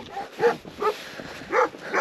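Shepherd dogs barking outdoors at a mountain sheepfold, three or four short yelping barks at moderate distance, loud against a light background hiss.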